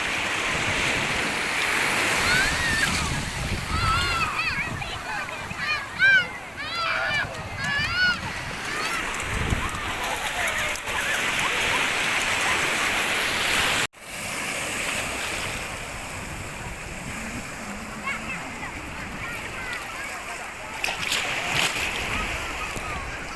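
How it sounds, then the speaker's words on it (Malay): Sea waves wash onto the shore at Krueng Mane in North Aceh, a steady, loud roar of surf and wind buffeting the microphone, with voices heard now and then over the continuous rush. "Air laut."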